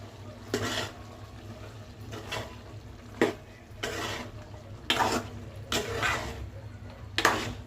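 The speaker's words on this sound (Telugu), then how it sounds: "ఒకసారి బాగా కలుపుదాం ముక్కలు పట్టేలాగా." Goat head curry pieces being stirred with a spoonful of masala paste in a hot pot: a low frying sizzle runs underneath, broken by several loud, scraping stirs at irregular intervals, close up with no talking.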